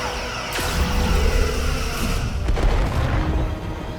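Starship weapons fire in Star Trek: Resurgence, a deep booming blast followed by a second, sharper shot around the middle, over a steady rumbling battle bed with no talk.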